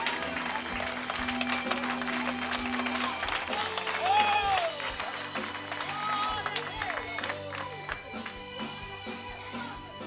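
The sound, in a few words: church congregation applauding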